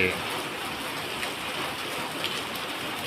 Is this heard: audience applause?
no